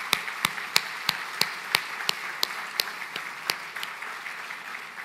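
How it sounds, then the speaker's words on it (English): Applause from a gala audience, with sharp individual claps standing out over a steady crowd patter and slowly fading over several seconds. "Give yourselves one last big round of applause"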